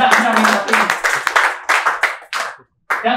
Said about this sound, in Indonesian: Tepuk tangan dulu buat rendahnya minat ini.